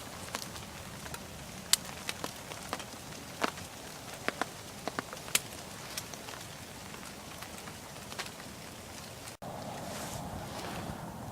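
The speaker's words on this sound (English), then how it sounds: "Enjoy the rain sometime in the woods." Steady rain patters on leaves and surfaces in the woods, a continuous wash of noise with scattered louder drips throughout; no voices.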